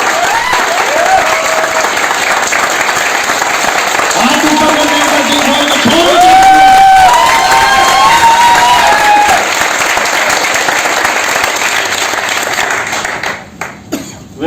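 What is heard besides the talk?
audience applause and cheering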